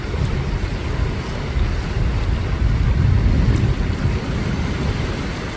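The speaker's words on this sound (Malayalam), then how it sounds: "കടൽ ഭിത്തിയില്ലാത്തിടത്ത് കടൽ കരയിലേക്ക് കയറിയ സാഹചര്യമാണുള്ളത്. വീടുകളിലേക്ക് വെള്ളം ഇരച്ചു കയറുകയാണ്." Storm waves surge onto the shore and into houses at Chellanam on the Kerala coast, where there is no sea wall: a steady, loud roar of churning surf and wind noise throughout, with no voices.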